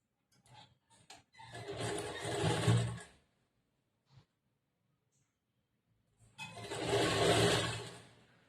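Sewing machine stitches a blouse side seam in two steady runs of about two seconds each, close and clear, separated by near silence with a faint tap.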